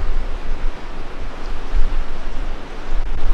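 Water lapping and washing against a shore outdoors, a continuous broad rushing wash with gentle swells in loudness, mixed with low wind rumble, steady and moderately loud without speech.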